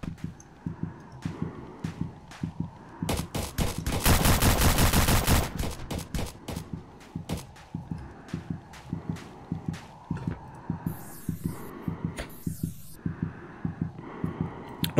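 Shotgun and automatic gunfire in the Roblox shooter Task Force 2: a rapid, loud burst of shots in the middle, surrounded by steady rhythmic thuds and repeated sharp reports, with no voices.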